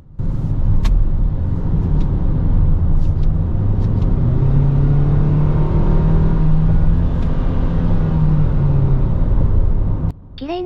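A new Toyota Alphard minivan engine, in manual mode on an expressway, hums steadily as it revs up under acceleration, the pitch climbing smoothly over several seconds before easing off near the end.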